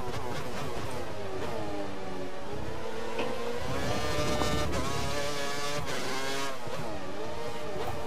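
Formula 1 race car engines in the F1 2013 video game scream as cars accelerate through gears, with loud, continuous high-pitched revving that rises and drops at each shift, several cars overlapping, with no talking.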